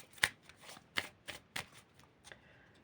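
Quiet, close-up riffling of tarot cards being shuffled, a few crisp flicks spaced about half a second apart with soft rustling between.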